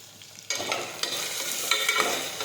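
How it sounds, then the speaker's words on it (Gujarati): A spoon stirs spices such as turmeric, salt and sugar into potato curry in a hot pan, giving a steady close scraping sizzle that starts abruptly and continues without talk. "હવે મિક્સ કરી દઈશું"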